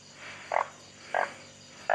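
Large frogs croak in short, loud bursts, three evenly spaced calls about half a second apart, close by over a quiet background.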